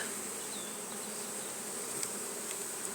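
A steady, dense drone of many honey bees buzzing close by around an open hive, continuous and even throughout, with no talking.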